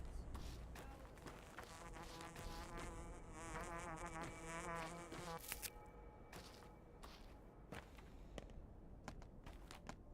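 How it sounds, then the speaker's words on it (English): Flies buzz near flowers in the video game Pathologic 2, a steady insect drone with whining tones layered over game ambience that thins out into quieter background sounds partway through. "So the flies' buzzing sound means that there's flowers nearby."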